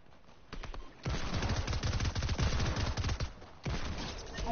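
Rapid hand cannon gunfire in a video game bursts out in dense, repeated shots, loud and close, with short pauses between volleys.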